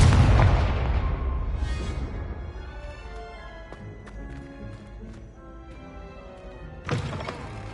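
Confringo fire-blast spell explodes in the video game Hogwarts Legacy: a heavy boom opens loudly and decays into a rumbling tail with scattered crackles, then a second sharp impact lands near the end.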